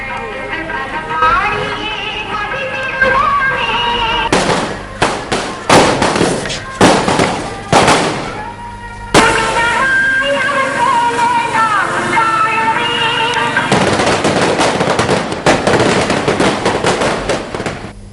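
Fireworks burst during a religious statue procession, loud sharp cracks and rapid crackling volleys in clusters over a continuous crowd and street din, with a narrator's voice running over the noise.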